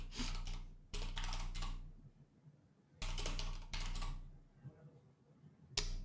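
Someone types on a computer keyboard in two quick bursts of rapid clicking, the second ending in a sharp key tap, with quiet pauses between bursts and no talk.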